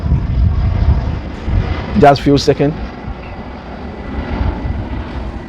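An airplane passes overhead in Accra, Ghana, a loud continuous roar under a brief spoken phrase, then fading gradually.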